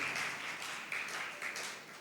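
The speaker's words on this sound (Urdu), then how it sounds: "تمام کاہنوں کے لیے بھرپور تالیوں میں ہم ان کو مبارکباد دیتے ہیں" Steady applause fills a church for the priests, a dense wash of many hands clapping together, moderately loud and continuous throughout.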